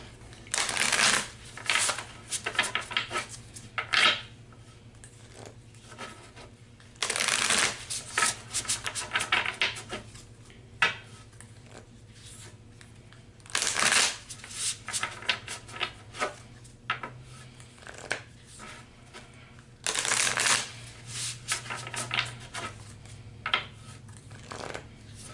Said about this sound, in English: Was a good shuffle.